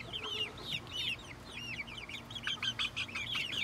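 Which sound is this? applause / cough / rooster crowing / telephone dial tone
rooster crowing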